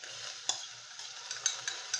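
Brown rice is stirred and fried in a pan, soft sizzling under a few sharp scrapes and utensil taps, close but fairly quiet, no talking.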